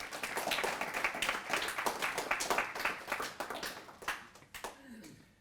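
An audience at a school information night claps to welcome a speaker, a dense burst of applause that thins out and fades near the end.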